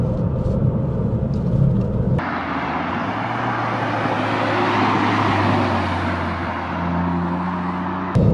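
A Ford Fiesta ST Mk8.5 with a three-cylinder engine is driven along, giving a steady, loud engine drone and road rumble that carries through the whole stretch with no talk over it.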